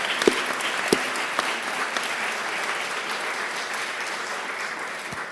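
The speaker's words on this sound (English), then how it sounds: "Can we give them a round of applause?" Steady applause from a symposium audience at a scientific meeting, even dense clapping throughout with a few sharper louder claps near the start.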